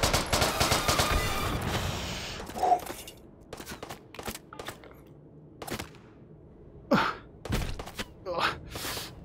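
Gunfire in the VR shooter Hot Dogs, Horseshoes & Hand Grenades, scattered sharp shots cracking at irregular intervals, some near and loud, others fainter, with breathy gasps from a player between them.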